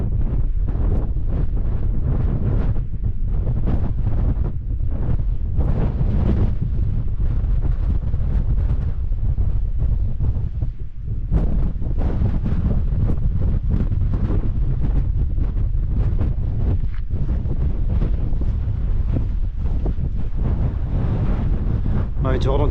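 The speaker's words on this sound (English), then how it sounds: "I'm having to hold on to my hat here, it's getting quite windy." Strong wind buffets the microphone on Stanage Edge, a gritstone escarpment, with loud, continuous gusty rumbling that never lets up.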